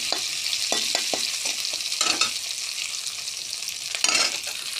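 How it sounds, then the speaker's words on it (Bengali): Chopped onion sizzles steadily in a hot pan for fish curry while a utensil scrapes and stirs it in short repeated strokes, close and fairly loud, with no talking. "পেঁয়াজ কুচি দেওয়ার পরে হালকা হালকা করে নাড়তে রাখবো যতক্ষণ পেঁয়াজ মরছে না"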